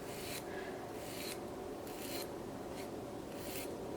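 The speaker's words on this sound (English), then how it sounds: "taking that softer side of the file as well and going over the top" The softer side of a nail file rasps over the top of a structured builder gel nail in repeated short back-and-forth strokes, quiet and close with no talking.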